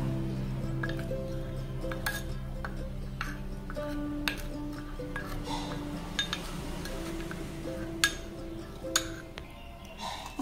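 Dressing for a cabbage salad, made with a few spoonfuls of cabbage cooking water, stirred in a bowl, giving scattered light clinks of a spoon against the bowl over a low steady background hum.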